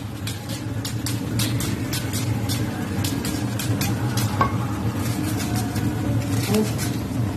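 Onion frying in a pan beside liver on the stove, a steady close sizzle with scattered crackles and stirring clicks and a low hum underneath.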